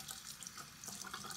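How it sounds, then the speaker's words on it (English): Running tap water splashes steadily into a sink, a soft, continuous rush with small shifts as clear teeth aligners are rinsed under the stream. "So I just ran those underwater."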